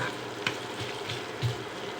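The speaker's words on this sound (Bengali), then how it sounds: "পেঁয়াজটা একটু ভেজে নিলাম" Onions sizzle steadily in hot oil in a pan with cinnamon and bay leaves for a chickpea curry. The frying hisses close up, and light stirring clinks break in now and then.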